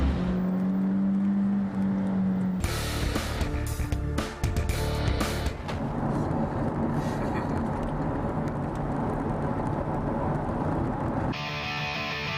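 A Nissan 350Z Racing Edition with a 313-horsepower six-cylinder engine, manual gearbox, rear-wheel drive and mechanical lock drives past, its engine a loud, continuous roar with shifting tone and brief cuts, broken by an abrupt change near the end.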